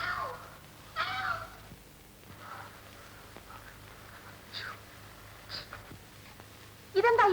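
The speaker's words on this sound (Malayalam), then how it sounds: "ഇതെന്താ ഈ പൂച്ച ഇങ്ങനെ നിങ്ങളുടെ പുറകെ?" A cat in an old Malayalam film scene meows a few times, short plaintive calls near the start, around one second and again at the end, with people talking in between.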